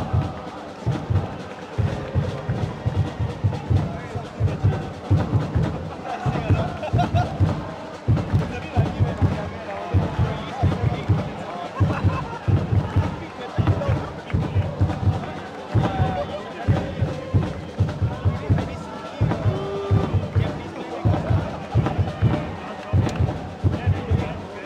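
A football stadium crowd at the Singapore Cup final between Hougang United and Tampines Rovers keeps up a steady rhythmic beat of claps or drums with a loud murmur of fans, while a person talks nearby.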